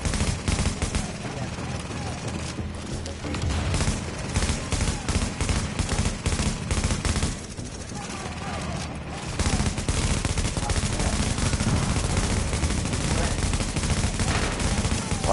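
Dense, sustained Liberator gunfire in a shooter game, with rapid overlapping shots and blasts continuing throughout, loud and busy, briefly easing mid-way before resuming at full intensity.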